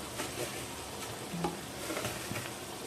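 Food frying in oil in a pan is stirred after a little sugar, salt and turmeric go in, giving a steady close sizzle with soft scraping strokes and faint clicks throughout.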